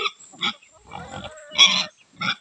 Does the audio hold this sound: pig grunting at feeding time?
yes